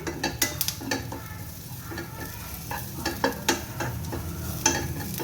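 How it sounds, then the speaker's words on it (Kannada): Ingredients for a horse gram soup are fried in a pan and stirred, a steady sizzle broken by repeated scrapes and clacks of a utensil against the pan, close and fairly loud, with no talking. "ಇದನ್ನು ಕೂಡ ಚೆನ್ನಾಗಿ ಫ್ರೈ ಮಾಡಿಕೊಂಡೆ ಇದನ್ನು ಬೌಲ್ಗೆ ಹಾಕೋತೀನಿ."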